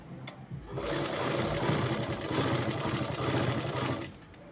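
A sewing machine runs close and loud in one continuous burst of rapid stitching, stitching a dress made from an old saree, starting and stopping cleanly with a brief click before it.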